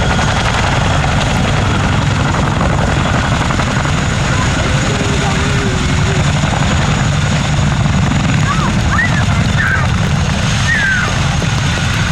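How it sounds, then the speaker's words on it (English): A loud, steady roar from a Boeing Chinook HC.6 tandem-rotor helicopter at an air show, deep rotor thumping filling the whole stretch, close and continuous, with faint tonal whines drifting above it. "you'll see the tandem rotors of the Chinook used to bring the aircraft to a complete stop"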